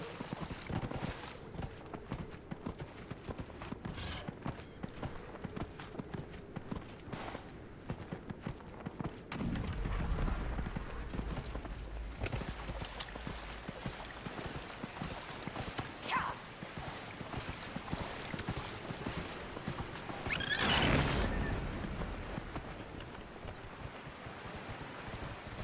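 Horse hooves clip-clopping in Dragon Age: Inquisition, a steady rhythmic trot under wind-like rushing ambience, with a few heavier thuds and bursts along the way.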